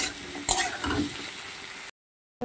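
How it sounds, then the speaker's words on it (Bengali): Ginger and garlic frying in oil in a pan; a close sizzle with a sharp stirring scrape near the start, fading into a brief steady hiss before cutting to silence. "আদা রসুনটা ভালো করে ভাজতে হবে"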